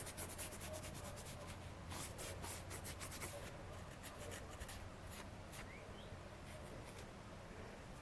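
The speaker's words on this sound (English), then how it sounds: "get your Scotch-Brite pad" A Scotch-Brite pad rubs back and forth against an engine part during engine assembly, making faint, quick, repetitive abrasive scrubbing strokes that run steadily throughout.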